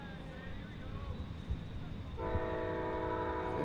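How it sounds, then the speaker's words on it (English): A train rolls through downtown Joliet beside a college baseball game, a steady rumble joined partway through by a loud, sustained multi-tone horn blast that holds to the end, with faint crowd or field noise beneath. "As the train rolls on by here in downtown Joliet."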